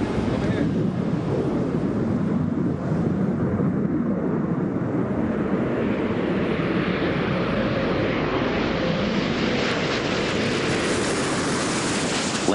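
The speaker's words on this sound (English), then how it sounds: "Mark Kelly flaring up Discovery's nose" Space Shuttle Discovery glides in to land on mission STS-124, heard as a loud, continuous roaring rush of wind and air that steadily builds and brightens across the whole stretch, with a commentator's voice faint beneath it.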